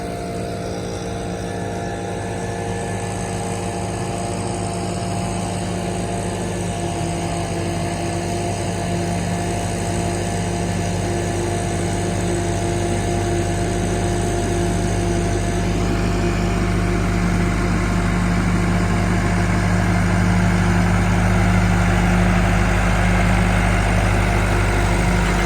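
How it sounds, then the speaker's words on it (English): An Allis Chalmers tractor pulls a rake back and forth across a yard being prepared for grass. Its engine gives a loud, steady drone that holds constant throughout, with no voices. "Tractor with this rake and going sort of back and forth"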